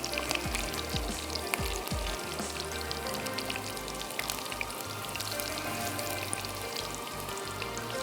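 Potatoes fry in a pan for a mutton gobi handi, giving a steady close sizzle with irregular scraping and stirring thumps, and no voices.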